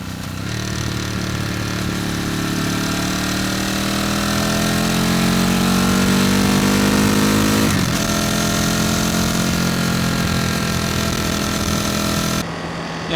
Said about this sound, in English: I'll try to get the RPM up just so you guys can kind of hear the nice Ducati sound